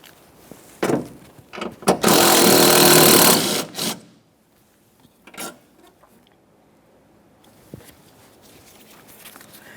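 Hand tools work on the 10mm mounting bolts of a Toyota Sienna 3.5L V6 wiper motor, giving a burst of fast mechanical ratcheting chatter, then scattered clicks and clunks fading into quiet.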